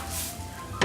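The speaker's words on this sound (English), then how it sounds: "add half of the finely chopped onion. That's a good sizzle" Finely chopped onion sizzles in hot olive oil in a pan, a soft steady hiss with a brief clatter of a utensil at the end.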